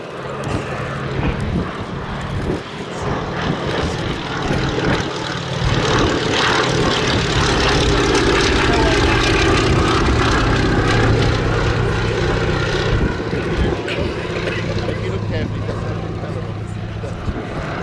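A Fairey Swordfish biplane flies overhead and banks through a turn, its radial engine and propeller a steady, loud, broad drone that holds for the whole stretch.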